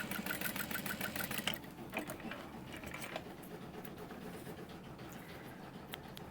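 A sewing machine stitches a half-inch seam on quilted fabric, a rapid mechanical whirr that runs quietly and evenly, a little busier at the start.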